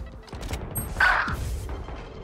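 Video game gunfire comes as a fairly faint burst of rapid shots in the middle, with softer scattered shots around it.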